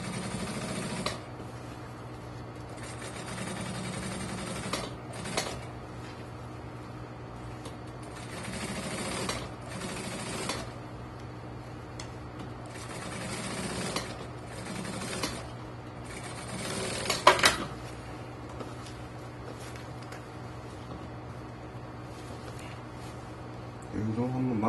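A sewing machine stitches a leather jacket in bursts of rapid mechanical whirring, broken up by pauses, with a steady hum underneath and someone talking through much of it.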